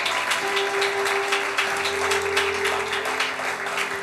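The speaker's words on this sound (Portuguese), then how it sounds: "Dá uma salva de palmas ao Senhor." A church congregation claps enthusiastically, a dense, sustained round of applause with scattered sharper claps, over a low steady hum.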